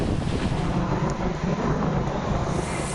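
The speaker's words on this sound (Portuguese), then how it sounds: "Em Santa Maria, na região central, moradores flagraram a chegada da chuva." Heavy rain and strong wind arriving in Santa Maria, heard as a steady, loud broadband roar with gusty buffeting on the microphone throughout, with no voices.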